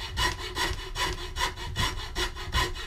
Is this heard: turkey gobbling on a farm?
no